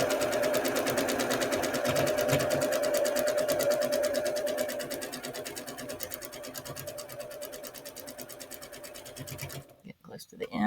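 A sewing machine stitches quilt pieces together, its needle ticking in a fast, even rhythm close up for several seconds before stopping abruptly near the end.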